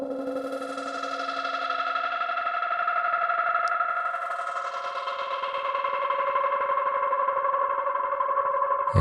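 Turkey sound sample played as a synth instrument in Ableton Live with tremolo, reverb, phaser and delay effects, sustained pulsing tones layered in harmonies, continuous and moderately loud.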